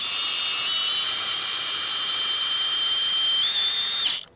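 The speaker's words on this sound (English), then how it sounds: "it's just pretty hard sometimes to get those tech screws through two pieces of metal" A power drill whines steadily and loudly as it drives a tech screw through a metal strap and bow on a Quonset greenhouse end wall, its pitch shifting slightly near the end before it stops abruptly.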